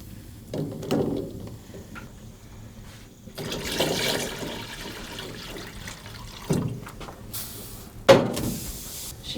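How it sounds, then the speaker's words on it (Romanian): Hand-dyed Transylvanian decorated eggs being rinsed in a bowl of water, with several separate splashing and sloshing bursts between quieter pauses and no talking. "Le spălăm în asta apă și apoi..."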